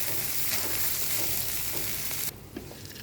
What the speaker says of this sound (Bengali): এবার ভালো করে চালটাকে ভেজে নেব।